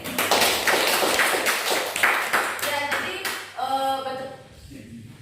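Students in a classroom clap their hands together for a classmate, a lively burst of claps lasting a few seconds before it fades and a voice speaks.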